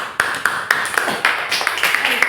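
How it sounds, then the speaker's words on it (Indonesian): A classroom group applauds after a student presentation, a near burst of uneven hand claps lasting a couple of seconds. "Beri tepuk tangan."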